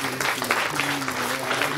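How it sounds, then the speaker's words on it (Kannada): Applause from an audience at a ceremony, a steady wash of many hands clapping throughout, fairly close and dense, with a faint tonal hum beneath. "ಜೋರು ಚಪ್ಪಾಳೆ ಬರಲಿ"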